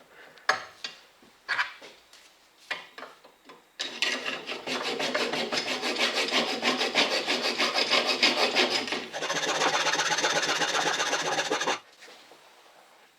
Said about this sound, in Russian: дорабатываем съемник с помощью напильника, буквально на 5 миллиметров